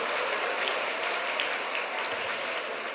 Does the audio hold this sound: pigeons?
no